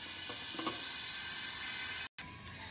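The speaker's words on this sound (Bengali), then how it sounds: "গ্যাসটা মিডিয়াম ফ্লেমে রেখে আলুটা আমি আস্তে আস্তে ভেজে নেব।" Potatoes fry in a pan over a medium gas flame with a continuous, fairly loud sizzle and crackle, broken by a brief silent cut near the end, with no one talking.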